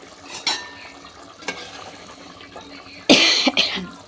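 Mutton curry stirred in a home kitchen pot, with a few scattered scrapes and clinks of a spoon against metal, including a louder burst of stirring near the end.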